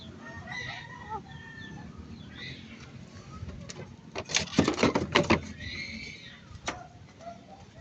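Talisay chickens cluck in short, scattered calls and a rooster crows loudly in the middle, heard outdoors at moderate distance.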